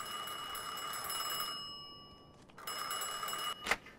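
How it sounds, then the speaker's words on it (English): A telephone rings in the 1951 city setting of the video game Mafia II, with steady tonal bell bursts over game background noise, then a brief gap and a sharper burst near the end. "I answer the phone."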